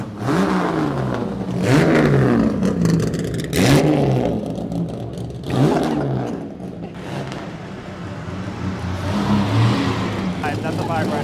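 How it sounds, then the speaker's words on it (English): A Benetton Formula One car engine revs and roars up and down in several bursts, loud and close, with people talking over it, at Goodwood Festival of Speed. "it's a Benetton Formula One car"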